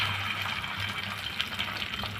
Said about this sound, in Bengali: ডিমটা ভেজে নিব হালকা করে